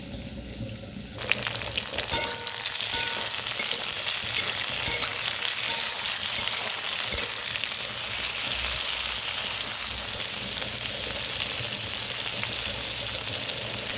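Vegetable stalks, ridge gourd and tomatoes fry in a hot wok, a continuous close sizzle and hiss with a few stirring knocks, no talking.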